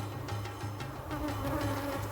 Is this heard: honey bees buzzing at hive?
yes